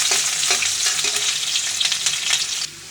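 Chili paste hits hot oil in a pan with a loud, dense sizzle and crackle, close and continuous, cutting off abruptly near the end.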